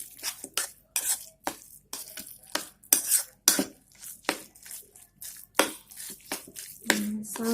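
A spoon stirs tofu meatball filling in a bowl with repeated quick scraping and clinking strokes, close and fairly loud, in an irregular rhythm with no talking.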